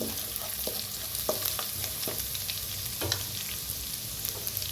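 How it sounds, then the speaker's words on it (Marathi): Mixed dals roasting with a pinch of turmeric in a pan, a continuous soft sizzle and rustle as the spoon stirs, with several sharper scrapes against the metal, close up. "टाकूया थोडीशी हळद त्याला बी असं भाजूया"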